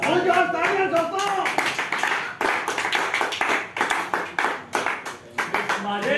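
Lively clapping from onlookers at a gulab jamun eating challenge, sharp uneven hand claps in bursts with a voice speaking loudly over them.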